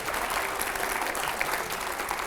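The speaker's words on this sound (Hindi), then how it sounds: "जोरदार तालियां हो पहले" A studio audience claps loudly and steadily, a dense, even wash of applause with no break.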